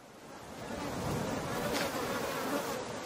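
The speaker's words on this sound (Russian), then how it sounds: "О, мухи летают." Flies buzzing steadily in the survival video game The Forest, a continuous close insect drone with a soft wind-like hiss underneath, holding at a fairly even loudness for about three seconds.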